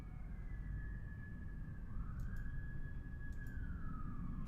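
A video-game siren wails, sweeping slowly up and down, steady and moderately distant, over a low rumbling background with no talking.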